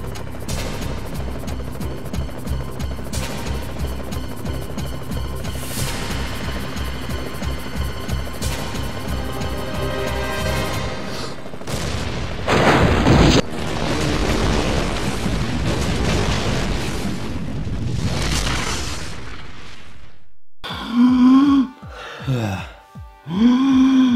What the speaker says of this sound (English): the countdown getting bigger, the ticking noise getting louder, violins chiming in, brass instruments, and even a final gasp from McLean as he prepares for annihilation